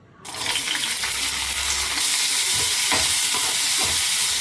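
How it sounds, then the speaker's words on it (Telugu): Chickpeas fry a second time in a little oil in a pan: a steady, hissing sizzle starts abruptly, with faint scraping and stirring knocks over it. "ఇలా మళ్ళీ రెండోసారి మళ్ళీ కొద్దిగా నూనె వేసుకుని ఈ కప్పుడు శనగలే నేను రెండు సార్లు వేయించాను"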